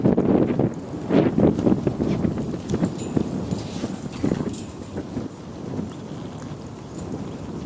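Horse loping in a small circle in front of a clinic instructor, hooves striking in a rhythmic clip-clop that is loudest at first, then fades somewhat as it moves away, with wind noise on the microphone.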